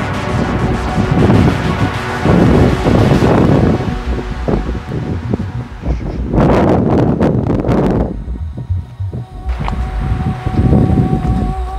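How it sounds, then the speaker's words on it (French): Outdoor wind buffets the microphone in loud, rumbling gusts that swell and ease across the clip, with a brief quieter lull before it rises again. "Il y a du vent, en plus"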